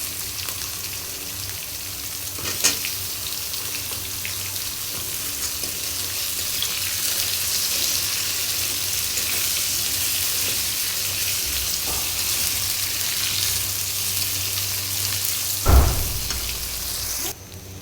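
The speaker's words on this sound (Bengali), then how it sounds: "এখন এই তেলের মধ্যেই আমি বেগুনগুলো দিয়ে হালকা করে ভেজে উঠিয়ে রাখবো" Eggplant pieces frying in hot oil in a home kitchen give a steady, even sizzle throughout, with a few sharp clinks from utensils.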